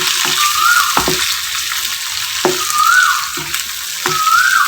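Chicken fry with crushed pepper powder is stirred in a pan, a steady close sizzle of frying running throughout, with a few soft scraping strokes of the spoon against the pan at intervals.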